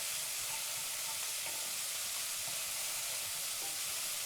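Onions caramelizing in a hot pan, giving a dense, steady, close sizzle with a constant hiss and no pauses or voices.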